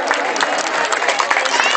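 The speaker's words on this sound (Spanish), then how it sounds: "Vamos, bastante caluroso aplauso." Warm applause from a crowd at a town festival footrace, steady clapping under a loud announcer's voice.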